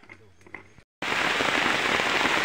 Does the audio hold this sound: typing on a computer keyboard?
no